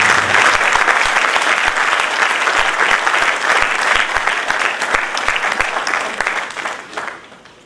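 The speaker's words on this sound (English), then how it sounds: "Please give a big round of applause." A large crowd applauds loudly and steadily for several seconds, the clapping fading toward the end.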